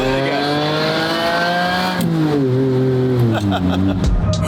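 A car engine rumbles close and loud, its pitch dipping and rising as the revs change across a few seconds, with a voice talking over it.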